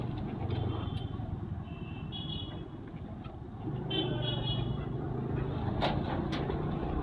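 Riding a scooter through road traffic, a steady engine and wind roar throughout that swells midway, with short car horn toots nearby and faint distant honks, no clear talk.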